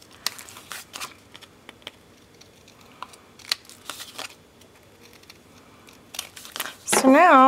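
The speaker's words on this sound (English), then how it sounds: "And then I'm going to take a pair of scissors." Scattered sharp snips of Tim Holtz scissors through paper with faint rustling in between, ending in a brief whistling tone.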